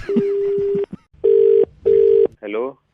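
Steady electronic telephone tone after a call is hung up on a radio prank show, three long flat beeps separated by short gaps, following a brief voice and ending with another short burst of speech.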